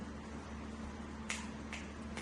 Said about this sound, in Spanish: reconozca de qué zona proviene el sonido de los chasquidos de los dedos